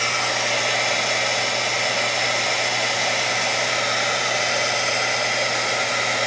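A hair dryer runs steadily while drying paint, giving a constant close, loud blowing whoosh with a motor hum underneath and no talking.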